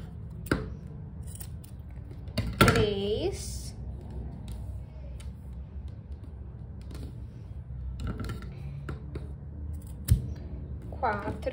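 Scissors snip crochet yarn in a few short, sharp cuts spread over a quiet background, with someone talking in Portuguese in between.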